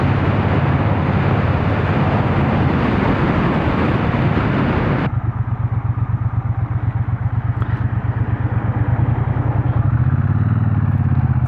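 A Triumph Bonneville T120 motorcycle is ridden on the road, heard up close: loud roaring engine and wind, then a steadier, pulsing low engine beat as it eases off.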